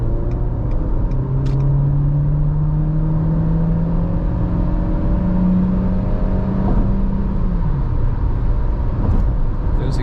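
A 2024 Dacia Jogger Hybrid with 140 hp accelerates at full throttle at night, its loud steady cabin drone rising in pitch as it speeds up and then easing off near the end.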